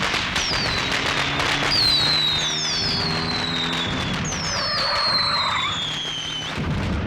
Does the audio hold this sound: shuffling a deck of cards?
no